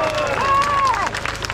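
An audience at a French patriotic political rally applauding, a dense wash of clapping and crowd noise with a voice sounding over it, steady and close throughout.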